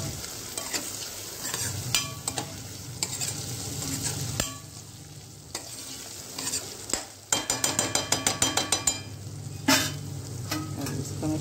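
Onions and potatoes fry and sizzle in a pan with steady stirring, a bright crackle running throughout and a burst of quick rhythmic scraping clicks near the end.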